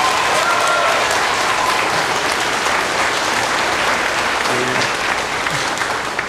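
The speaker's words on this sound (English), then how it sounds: "another round of applause for the incredible students of Wicomico County Public Schools" Loud, sustained applause from an audience at a veterans' tribute with school students present, a dense wash of clapping that holds steady throughout, with a faint voice briefly audible beneath it.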